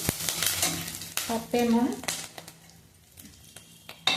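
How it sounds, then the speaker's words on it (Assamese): Dried red chillies and five-spice (panch phoron) frying crisp in a pan for a sweet star fruit pickle, a soft sizzle with stirring scrapes beneath a speaking voice. "শুকান জলকীয়াখিনি আৰু পাঁচফোৰণখিনি ভালদৰে মচমচীয়াকৈ ভাজি হোৱাৰ পিছত"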